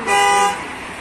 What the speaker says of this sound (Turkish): Evet bakın şimdi araç korna ve dörtlerle uyarı veriyor.